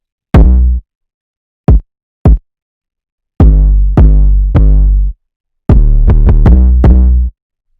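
Kick drum and 808 bass mixed together in Ableton, playing as loud, punchy hits with deep booming sub tails, first a few sparse strikes, then a run of quicker repeated hits, close and alone.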